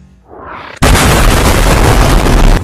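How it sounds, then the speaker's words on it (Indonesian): Film gunfire blast smashing through a museum wall in Transformers: Rise of the Beasts, a rising whoosh that cuts into a huge sudden boom with sustained roaring debris, very loud and alone. "tiba-tiba sebuah tembakan menjebol dinding museum"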